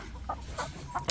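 Laying hens on a farm give several short, close clucks in quick uneven succession, fairly loud against a low background hum.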